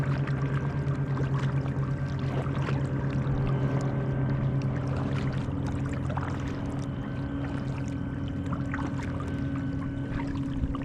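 Motorboats passing on a lake, heard from a kayak as a steady distant engine drone with a low hum, alongside faint water lapping and trickling.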